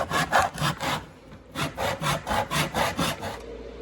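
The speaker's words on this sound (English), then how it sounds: "Doing a 90-degree cut." Handsaw cutting a piece of wood trim square at 90 degrees, about nine steady back-and-forth strokes in a close, loud rhythm with a short pause partway through.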